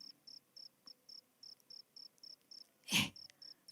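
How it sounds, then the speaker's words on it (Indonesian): Crickets chirp in a steady, rapid rhythm of short high pulses, faint and close, interrupted once by a brief soft rustle. "Ini adalah suara jangkrik."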